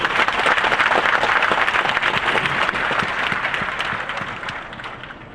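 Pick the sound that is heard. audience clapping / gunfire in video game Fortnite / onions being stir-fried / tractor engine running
audience clapping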